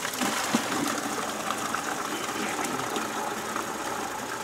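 Electric water pump running steadily during a flow test on a Ford Model A radiator, a continuous broadband whirring hum with a light mechanical chatter, close and unbroken with no talk.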